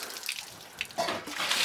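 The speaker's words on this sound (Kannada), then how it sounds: "ಹಾಗಾಗಿ ನೀಟಾಗಿ ನೀರು ಹಾಕಿ ಅಷ್ಟು ತೊಳಿತಾ ಇದ್ದೀನಿ" Water splashes across a floor being washed, a few brief close sloshes and spatters in quick succession.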